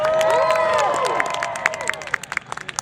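A crowd at an air show cheers and whoops loudly, then scattered clapping and shouts fade out over a few seconds.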